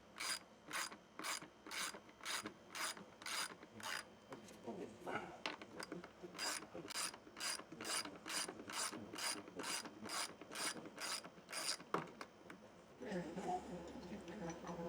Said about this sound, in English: I'm taking the fairing support bracket loose.